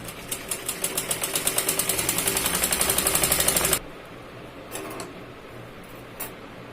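A sewing machine stitches a seam on a button-placket blouse, producing a fast, even run of mechanical thumps that builds for nearly four seconds and then stops abruptly. A few faint clicks and handling noises follow.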